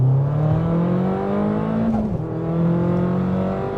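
A 416bhp big-turbo Audi TT accelerating hard from second gear, the engine note climbing steadily in pitch with a brief dip around a gear change, loud and sustained from inside the car.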